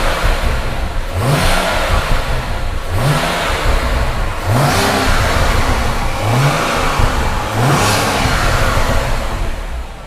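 A BMW N54 335i engine fitted with a Chinese 17T hybrid turbo on its first start, droning steadily near the microphone, with five short rising rev blips spaced about every two seconds.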